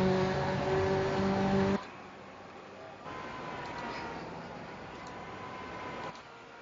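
Race cars at speed on the South Boston oval track give a steady engine roar that drops to a lower, rougher drone before a distant race continues, with no talk over it.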